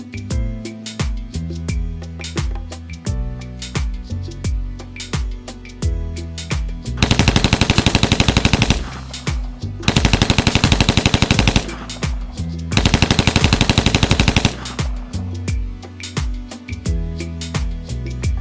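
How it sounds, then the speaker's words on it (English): Rapid bursts of automatic gunfire, three long volleys, are surrounded by steady single shots and booming reports from the range. "It's the targets being shot on the shooting range, sir."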